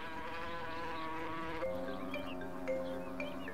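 Steady droning hum of Cape honey bees with a tonal buzz, shifting pitch midway, close and continuous, no voices.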